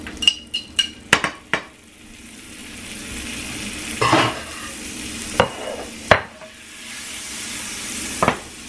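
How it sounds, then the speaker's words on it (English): Butter sizzles softly in a skillet over the heat, a low steady fry broken by several sharp clinks and scrapes of a utensil against the pan. "So I put some butter in the skillet."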